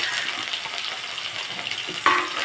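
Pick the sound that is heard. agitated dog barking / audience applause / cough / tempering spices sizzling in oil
tempering spices sizzling in oil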